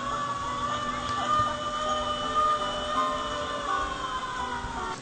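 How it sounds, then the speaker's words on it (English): Fire engine sirens wail and sweep in long, tonal rising-and-falling cycles, fairly loud and sustained, with traffic rumble underneath and no clear talk over them. "here comes the fire engines"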